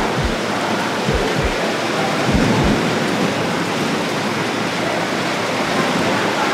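Heavy rain pours down steadily during a meal at a nasi kandar eatery in South Jakarta, a loud, dense hiss throughout, with low rumbles of thunder in the first few seconds and no voices.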